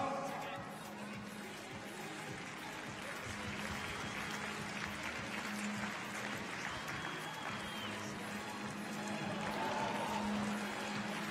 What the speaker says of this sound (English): And now, ladies and gentlemen, the last attempt for the new world record holder. Please spend a big applause